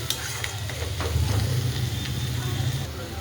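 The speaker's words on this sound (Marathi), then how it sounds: "आपला कांदा आणि हिरवी मिरची छान अशी परतून घ्यायची" Chopped onion and green chili stir-fried in a pan, a steady close sizzle with scraping stirs and a low burner rumble underneath, growing slightly louder midway.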